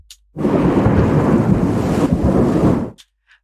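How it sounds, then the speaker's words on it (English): A single long roll of thunder rumbles loudly for a few seconds, broad and crackling, then cuts off into silence. "So this is just the sound of thunder."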